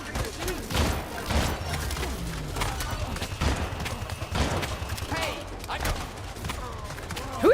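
Rapid bursts of video game gunfire crackle through a shooter match, scattered shots and volleys at irregular intervals, mixed with faint in-game clatter and a bit of player chatter.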